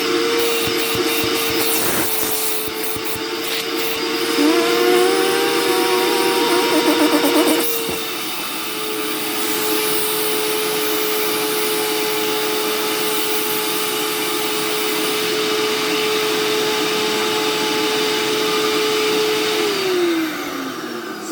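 A canary yellow Hoover Turbopower 2 vacuum cleaner, being serviced for a suspected smoky motor or worn bearings, runs steadily through a suction test, its whine dipping briefly as the tool is used, then holding a loud even drone before winding down at the end.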